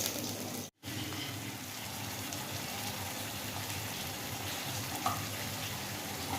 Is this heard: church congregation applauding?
no